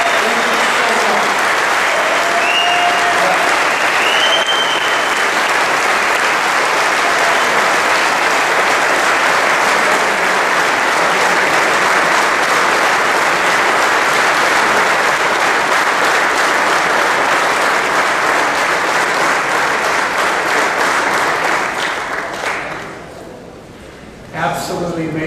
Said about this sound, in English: Let's give them the outstanding applause and gratitude.